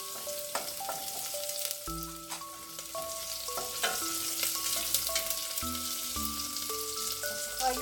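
Garlic and onion frying in a pan for pork curry give a steady, close sizzle, broken by intermittent clinks and scrapes of stirring.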